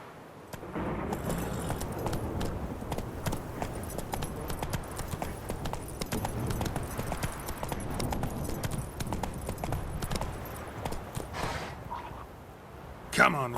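Hooves of the horse Roach clip-clop steadily at a walking pace in The Witcher 3, a continuous close rhythm of hoofbeats on the ground, with a voice talking over them.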